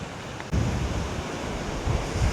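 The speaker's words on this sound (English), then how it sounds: "I think it was high tide and it was also quite windy." Wind and high-tide waves at the Noosa fairy pools, a steady rushing wash of surf and gusting wind on the microphone, rising suddenly after a quieter first half second.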